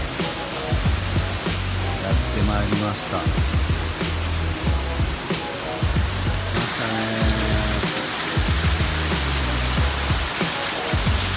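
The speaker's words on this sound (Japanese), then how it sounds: "雨の冬の季節がやってきました" Steady rain falls on Yakushima at the onset of the rainy season, a dense, continuous hiss of drops on surfaces, with a brief spoken phrase early on and occasional voice-like tones layered over it.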